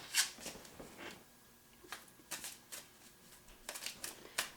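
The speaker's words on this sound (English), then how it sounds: "I guess I'm just supposed to shuffle these." Tarot cards being shuffled by hand for a reading, quiet and close, with soft riffling bursts and crisp slaps arriving in uneven clusters.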